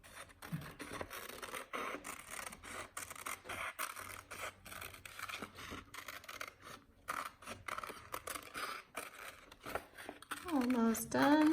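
Scissors snip around a paper portrait in a children's craft project, giving a steady run of close, crisp cutting and scraping strokes while someone talks over them throughout.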